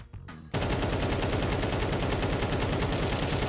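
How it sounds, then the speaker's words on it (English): An AK rifle in Counter-Strike 2 empties a full magazine in one unbroken burst of rapid, evenly spaced shots. It starts abruptly after a brief quiet moment and stays loud and close to the end. "If you dump a magazine with an AK, you will notice that it always follows the same line every single time."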